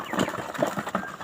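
Chickens cluck in short, irregular calls, with a few quick squawks close by and a low farmyard murmur, with ducks also present.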